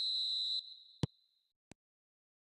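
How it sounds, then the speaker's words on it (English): A referee's whistle signals kickoff in a football video game: one loud, sustained, pure whistle blast that cuts off abruptly, followed by a couple of faint clicks and then near silence. "There's the whistle"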